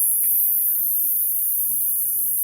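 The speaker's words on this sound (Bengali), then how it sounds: "ছোটবেলা থেকে ঝিঝি পোকার আওয়াজ শুনেছি, কিন্তু ঝিঝি পোকা কোনদিন দেখি নাই।" Crickets chirp in a steady, thin high-pitched drone that holds unbroken throughout, with faint low background noise beneath and no talking.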